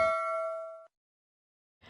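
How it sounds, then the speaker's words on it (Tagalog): Notification bell sound effect: a single bright metallic ding ringing out clearly and fading over under a second, followed by silence, with a faint bit of noise at the end. "hit the notification bell to keep you updated"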